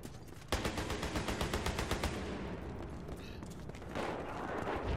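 Gunfire in a multiplayer shooter game, a fast rattling burst of automatic shots for a couple of seconds, then fading echoes and scattered softer battlefield noise.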